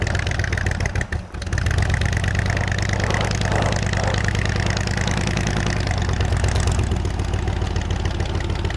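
A 1976 Chevy G10 van engine drives in high gear, a loud, close, steady drone with a brief dip early on, then a sustained mid-pitched hum that shifts slightly as speed changes.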